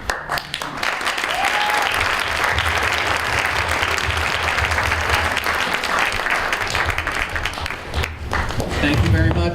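A school audience gives sustained applause at a Deering High School event with a guest speaker and student moderators. Dense clapping runs steadily for about eight seconds and then briefly thins out.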